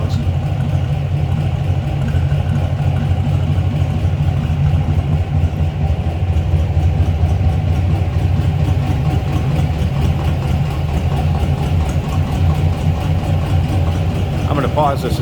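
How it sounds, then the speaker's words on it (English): A 1955 Ford F100 shortbox pickup idles in neutral with a steady low rumble from its side-exit exhaust pipes, running continuously and close by with no break in the sound. "a little rumble coming out of those side pipes"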